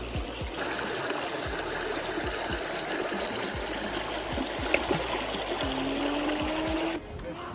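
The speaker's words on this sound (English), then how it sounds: "Waterfall." A waterfall in Zion National Park, Utah, rushes and splashes steadily nearby, a continuous broadband roar with a few faint tones and clicks mixed in.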